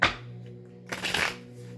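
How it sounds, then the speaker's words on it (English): A deck of tarot cards is shuffled in two quick riffling bursts, one at the start and a longer one midway, with a low steady hum between them. "Let's shuffle one more time."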